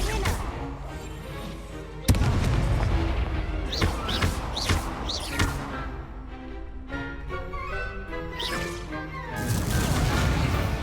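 Confringo fire-blast spell explosions in the Hogwarts Legacy video game: several sharp, loud booms and crashes burst over steady game music and combat sounds, with a dense roar near the end.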